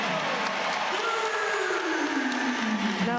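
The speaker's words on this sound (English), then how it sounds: "Jernigan hits that three, and his home crowd responds." The home crowd at a Georgia Tech at NC State women's college basketball game roars and applauds after a three-pointer, a steady loud wash of cheering with a commentator talking over it.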